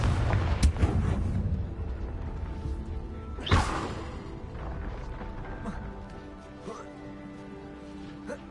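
A Confringo blast spell in Hogwarts Legacy, a deep booming explosion with a sharp whooshing burst midway, over rumbling game ambience and a talking voice early on, then a long fading tail.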